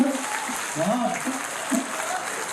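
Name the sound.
audience clapping at Hindi poetry recital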